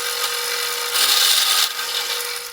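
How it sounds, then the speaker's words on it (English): A drill bores through the bottom of a wooden drawer pull for a wooden candy machine, giving a steady, close, continuous grinding whir with a louder stretch in the middle and no talking. "I'm going to drill through the bottom so both holes will meet in the center"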